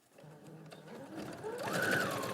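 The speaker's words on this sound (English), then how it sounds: "top stitch down that 1/8 of an inch" A sewing machine top stitches fabric an eighth of an inch from the edge, its motor whirring up from a soft start into a fast, steady run, close and clear.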